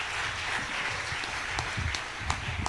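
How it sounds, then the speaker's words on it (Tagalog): Church congregation gives a thin, subdued round of applause, soft scattered clapping over a low murmuring room tone, with a couple of sharper claps standing out. "Mahina po yung palakpak, nagugutom na nga siguro."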